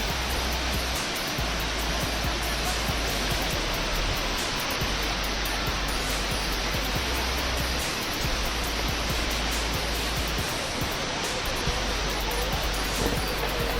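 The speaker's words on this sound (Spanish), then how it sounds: "Y por fin llegamos al último salto, la cascada Velo de Novia." Velo de Novia waterfall, the final drop in a chain of cascades, roars as a steady, dense broadband rush of falling water, loud and constant throughout with no voices over it.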